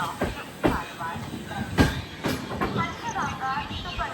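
The Panchaganga Express pulls into Kundapura station with rhythmic clanks and wheel knocks over the rails, heard nearby amid station bustle and voices.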